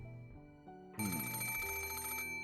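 A telephone bell rings loudly in the visual novel Rose Guns Days, bursting in after a second of quiet music and sustaining a bright, continuous electronic trill over the soundtrack.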